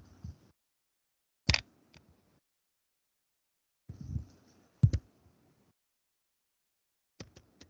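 Short clusters of clicking keystrokes on a computer keyboard come in a few sparse bursts separated by silence, quiet and close.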